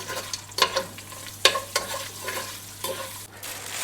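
Whole spices such as dried red chillies, cloves, cardamom, cinnamon bark, bay leaf and mace frying in oil for chicken biryani, with soft crackling sizzle and a few sharp scraping stirs of a spoon against the pan.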